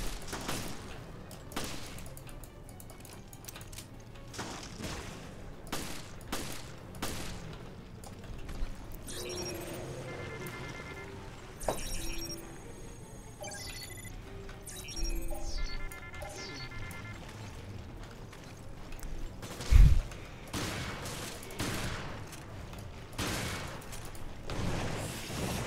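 Enemies fire at the player in Resident Evil Revelations: scattered gunshots and sharp bursts crack over a low game ambience, with mechanical clanks and a deep boom partway through.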